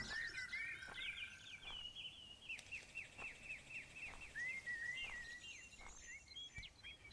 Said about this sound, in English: Pretty noisy here with the birds and the frogs.